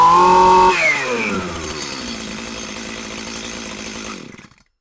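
A STIHL MS211 chainsaw runs close by, a high revving whine dropping to a lower, rattling idle before cutting off into silence.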